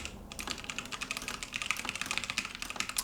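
Computer keyboard typing, picked up by a Synco Mic-D2 shotgun microphone, comes through as quick, irregular clusters of soft key clicks. It is faint and a little distant, with no talking.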